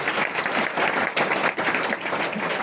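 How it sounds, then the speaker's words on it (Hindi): A church congregation claps in welcome at a Christmas celebration of Jesus's birth, a dense, steady wash of many hands with slight surges and dips in loudness, no talk over it. "सबको हम ताली बजाकर स्वागत करते हैं यीशु मसीह के नाम से"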